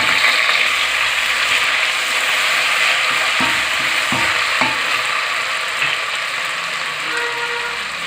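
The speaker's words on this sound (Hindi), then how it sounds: "और अब इसमें जा रहा है कि अदरक लहसुन का पेस्ट।" Ginger garlic paste frying and being stirred into medium-browned onions in a pan for masoor dal, a steady loud sizzle with a few scraping stirs midway.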